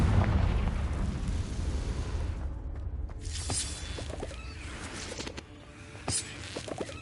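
A Confringo blasting spell goes off in the video game Hogwarts Legacy, a deep booming explosion with rumbling decay followed by scattered crackling pops and bursts.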